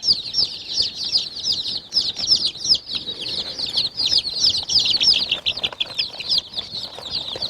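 Sultan chickens with young chicks, about twenty grown, fill the space with dense, steady high chirping and peeping, over scattered clucks and occasional wing flutters close by.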